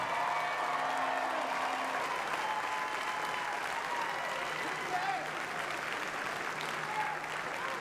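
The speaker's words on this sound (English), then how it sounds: "Ladies and gentlemen, one more round of applause for our incoming Hall of Famers." Sustained crowd applause for Hall of Fame inductees at a Louisiana sports celebration, a broad, even wash of clapping from a large audience with a faint voice and background tones underneath.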